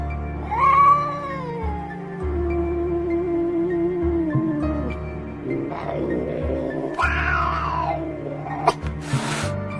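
A cat yowls and caterwauls in long, wavering, rising and falling cries with brief pauses between them. The sound is close and eerie, suited to a horror story, and ends in sharper bursts.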